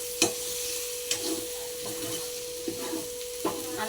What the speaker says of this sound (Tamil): கத்திரிக்காய் நல்லா எண்ணெயில் வெந்துடணுங்க.